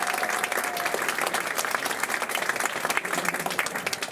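An audience at a magic club applauds performers, a lively burst of many hands clapping with scattered sharp claps throughout, fairly close and continuous.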